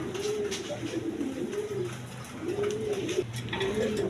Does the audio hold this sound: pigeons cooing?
yes